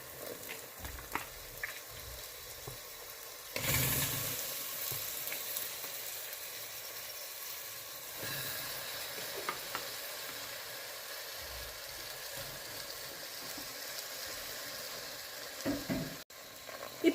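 One kilo of mutton sizzles as it roasts in masala in a hot pan, a steady loud frying hiss broken by occasional scraping stirs, with no talking.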